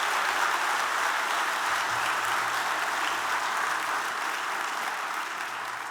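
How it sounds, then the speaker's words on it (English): Sustained applause from a large audience greeting dignitaries, elected officials and city staff at San Diego's 2023 State of the City address, dense steady clapping filling the whole stretch without a break. "Let's give our dignitaries, elected officials, and city staff a warm round of applause"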